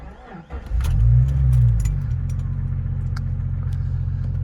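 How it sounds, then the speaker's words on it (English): A 1999 Jeep Cherokee XJ with its 4-liter engine cranks briefly and catches, revving loudly, then settles into a steady, close, rumbling idle with no talking. "Good old 4-liter still chugging away"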